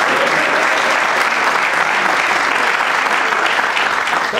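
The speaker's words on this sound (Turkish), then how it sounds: "Tabii burada propaganda mahiyetinde bir alkış şart zaten" Theatre audience applauding during the 1995 Ortaoyuncular stage production Üç Kurşunluk Opera, dense loud clapping filling the room steadily from start to finish with no voices.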